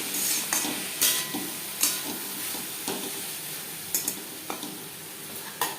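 Yardlong beans with grated coconut and slit green chillies sizzle and fry in a pan over medium flame, with a steady sizzle broken by repeated scraping stirs of a spatula, close and moderately loud, no talking.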